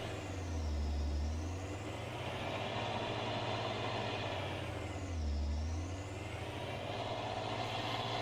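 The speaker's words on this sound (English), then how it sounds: "why does all the American trucks sound like petrol engines?" Idling American truck engine in Farming Simulator 19, a steady low rumble that swells and dips twice as the revs rise and fall, with a whining tone sweeping along with it, heard alone and close throughout.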